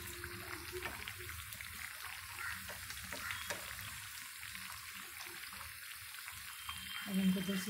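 Tikki patties of green coriander shallow-frying in a pan, a steady soft sizzle with light crackle throughout, heard faintly at close range with no clear talking.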